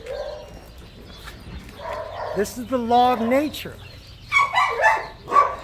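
A pack of dogs interacts at close range with a lively mix of barks, yips and whimpers, while someone talks over them.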